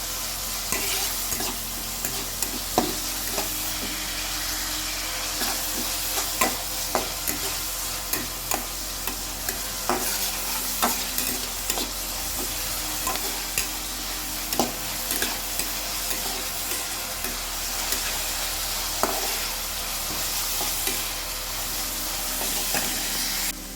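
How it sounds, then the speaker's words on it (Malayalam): Ingredients stir-fried in a pan with salt added sizzle steadily, broken by frequent sharp scrapes and clacks of a spatula against the pan, close and continuous with no talk. "ഇനി നമുക്ക് നന്നായി ഒന്ന് വഴറ്റിയെടുക്കാം"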